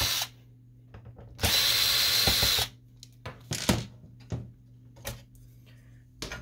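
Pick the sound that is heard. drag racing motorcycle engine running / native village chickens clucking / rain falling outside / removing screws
removing screws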